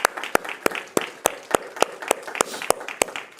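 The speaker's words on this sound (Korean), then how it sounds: "우리 하나님께 영광의 박수 올리겠습니다" A church congregation claps in unison, sharp evenly spaced claps landing about three times a second in a steady rhythm, close and clear with no talking over them.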